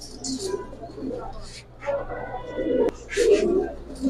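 A silver male Giribaz pigeon coos in soft, low repeated phrases, close by, with a voice talking over and between the calls.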